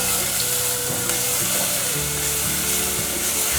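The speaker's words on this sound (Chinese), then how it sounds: "锅内放入少许油，把香菇角放进来炒香" Shiitake mushroom pieces stir-fry in a little oil in a pan, with a loud, continuous, close-up hiss of sizzling and faint stirring throughout.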